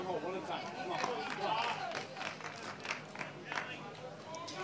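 Home crowd in Utah cheering and clapping at a beach volleyball gold-medal match, a steady wash of distant crowd noise with swells of applause running throughout.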